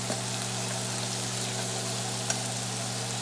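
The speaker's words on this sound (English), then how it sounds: "It starts cooking and it starts frying." Ramen noodles fry in sesame oil in a pan with a steady, even sizzle that holds at one level throughout, under a low constant hum.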